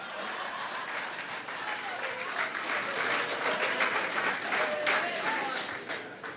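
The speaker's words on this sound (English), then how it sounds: "Mr. Huggins, and you could stand now and take a round of applause." A crowd gives a round of applause at a political rally, steady dense clapping that builds and holds, with a few voices faintly underneath.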